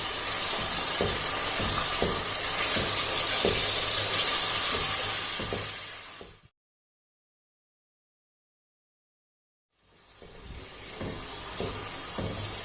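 Minced meat (keema) frying in oil for a lotus root curry, a loud continuous sizzle and hiss with stirring clatter, close up, cutting to silence midway before the frying resumes.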